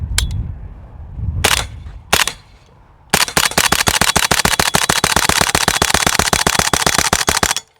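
A PSA 300 Blackout rifle shooting subsonic rounds at steel targets: a few separate shots, then a long rapid string of evenly spaced loud reports lasting about four seconds, close to the shooter.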